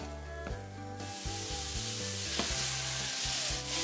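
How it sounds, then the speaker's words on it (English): Enoki mushrooms frying in a wok, a steady close sizzle with stirring and scraping throughout, and no talking. "Next, we're going to fry the condensed flour. The enoki mushrooms."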